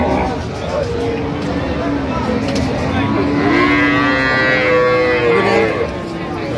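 Cattle at a village livestock market, a loud, drawn-out moo close by over a busy murmur of traders' voices and crowd noise.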